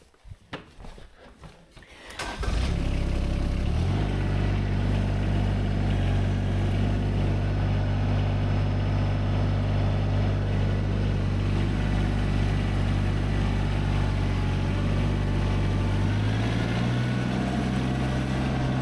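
A tractor fitted with aftermarket attachments is started and driven around. Its engine settles into a steady, loud, low chugging drone after a short burst of shuffling and clatter.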